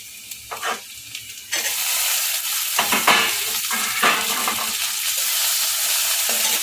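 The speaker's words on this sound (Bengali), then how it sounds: "হালকা করে ভাজা হয়ে গেছে পেঁয়াজটা এবার এর মধ্যে টমেটোটা অ্যাড করব" Chopped onion already lightly fried in a pan as tomato goes in for masala dahi bhindi, loud broadband sizzling bursting up after a quiet start, with scraping stirs and crackles through the rest.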